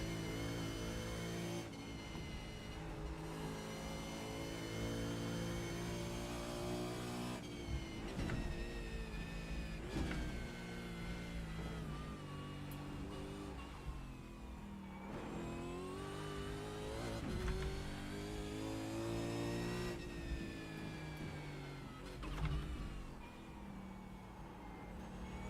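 Race car engine in the iRacing game at Bathurst, revving hard and climbing through repeated upshifts, each rising whine cut off by a gear change, loud and continuous throughout.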